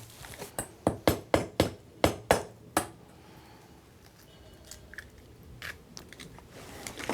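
Whole eggs are cracked against a bowl over sugar for a yogurt cake: a quick run of about eight sharp, close knocks, followed by quieter, scattered handling sounds.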